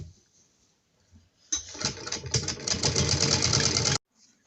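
Sewing machine running a straight seam on Patiala salwar fabric over foam, a close, steady mechanical rattle for about two and a half seconds, then stopping abruptly.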